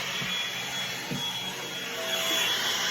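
A hair dryer drying a wet wig blows with a steady whooshing roar, close and fairly loud, with a few soft handling bumps.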